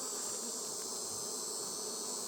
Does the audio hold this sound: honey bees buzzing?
yes